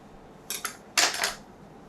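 A scraper drags across chocolate ganache on the sides of a cake: two short pairs of bright metallic scrapes in quick succession, close and fairly quiet, with near silence around them.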